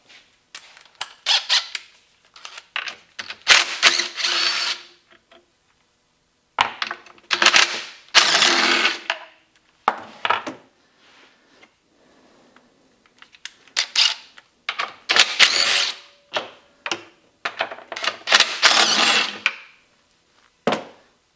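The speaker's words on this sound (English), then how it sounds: "First thing we do is take the motor off the pump, separate the pump housing from the strainer assembly." Close, irregular bursts of ratcheting and metallic tool clicks as a motor is unbolted from a pump and the pump housing is separated from its strainer assembly with 3/8-inch stainless bolts. Short pauses fall between the runs of clicking.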